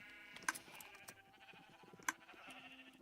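Two short, sharp sheep bleats from Minecraft stand out about a second and a half apart, nasal and close, over a quiet background of soft clicks and a faint sustained tone.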